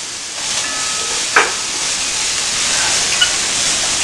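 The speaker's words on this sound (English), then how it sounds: "throw your onions and your green chili in there" Chopped onions and green chili land in a hot oiled pan for upma. They set off a loud, steady hissing sizzle with a couple of brief pops and no speech.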